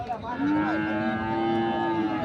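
A cow moos loudly and close by at a cattle market, one long drawn-out low call with a faint murmur of the crowded market behind it.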